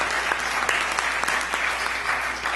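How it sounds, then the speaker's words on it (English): Steady applause from a seated audience at a career networking club session, many hands clapping evenly with a few sharper individual claps standing out throughout. "We give him applause."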